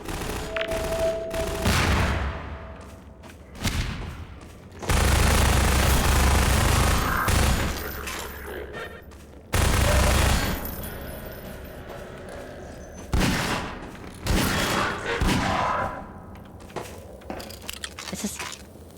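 Heavy video-game gunfire in loud bursts of rapid automatic fire and booms, several long volleys separated by quieter gaps, with no talk over it.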